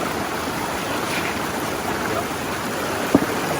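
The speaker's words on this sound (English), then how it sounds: "Plenty of water flow." Water rushing steadily through a fluid bed classifier gold trap set up on a river, a constant broadband wash with one small knock near the end.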